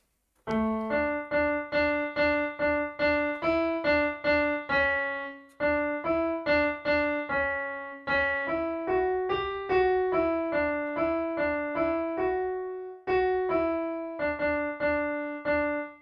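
Electronic keyboard playing bars 10 to 15 of the Ganesh Aarti 'Ek Dantay Vakra-tundaya' melody, clear separate plucked notes in a steady rhythm with brief pauses between phrases, close and alone.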